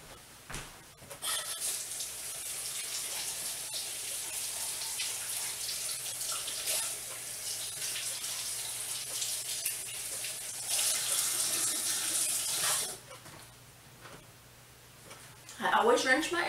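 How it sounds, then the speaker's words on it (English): Water from a kitchen sink tap runs steadily over onions being rinsed, a close, continuous hiss that swells near the end and then cuts off, followed by a brief rustle. "I'm gonna rinse my onions off."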